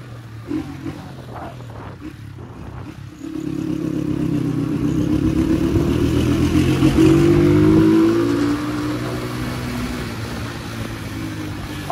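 A motorcycle engine drones steadily while riding in Izmir, rising in pitch as it accelerates, loud and close, with wind rumble throughout.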